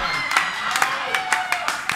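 A string of sharp, separate hand claps comes in a quick, slightly uneven rhythm, about seven in two seconds, fairly close, with a voice talking alongside.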